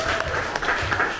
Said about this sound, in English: please give her an applause to Joe.